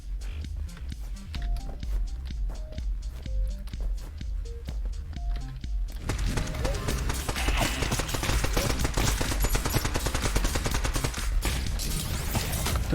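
Gunfire from the video game Neon Abyss: a steady stream of quick shots and impacts that starts over light music with small tonal blips, then becomes a dense, continuous barrage of rapid shots mid-clip.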